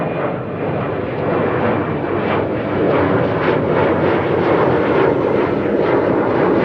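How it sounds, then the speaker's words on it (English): A Boeing 777-300 jet lining up on the runway at Amsterdam Schiphol makes a loud, continuous engine roar that swells slightly toward the end, with no voices over it. "777-300 is lining up"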